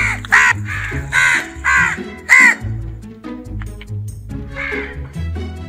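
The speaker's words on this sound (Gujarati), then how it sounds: "કાગડો કેવું બોલે એ સાંભળજો હો." A crow caws loudly and nearby in a quick series of harsh calls, pauses, then gives a few more caws. The calls stand alone with no talking.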